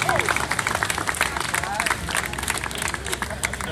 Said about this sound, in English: I think we want to give them a round of applause